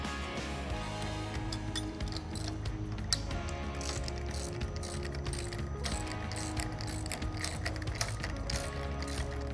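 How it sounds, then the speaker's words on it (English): A 3/4 inch wrench or socket tightens the caster wheels onto the steel legs of a Robust Steel Max Vyper chair, giving a steady run of close ratcheting clicks with no talk. "you're going to need a 3/4 inch wrench and or socket"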